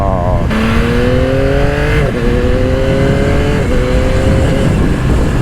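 A Yamaha YZF-R9 motorcycle engine accelerates hard, its loud droning tone climbing through several seamless quickshifter gear changes with brief dips between rising pulls, with heavy wind rush throughout.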